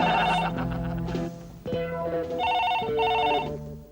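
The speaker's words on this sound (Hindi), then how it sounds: "जनाब फोन।" A telephone rings in a household comedy scene, a bright trilling bell repeating in quick bursts with brief gaps, loud and close, over a faint musical background.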